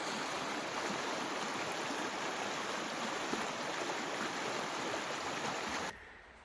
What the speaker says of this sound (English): we found a little river flowing into a bigger one, or a little creek flowing into a bigger creek